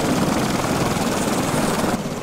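A gyrocopter engine in the game Stranded Deep gives a loud, steady rotor drone with a rapid rhythmic chop, dropping slightly in level near the end, with no talking.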